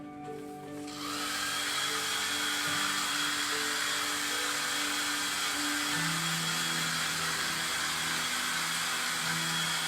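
A hair dryer blows steadily and loudly on a painted woven plaid design on a black-painted wooden pallet sign tray, starting up after a brief pause and running continuously with a broad airy roar and motor hum.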